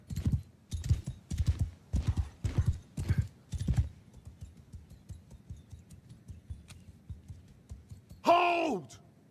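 Horse hooves clip-clop in quick, loud bursts in Mount & Blade II: Bannerlord, followed by quieter rhythmic steps and a short, sharp horse whinny near the end.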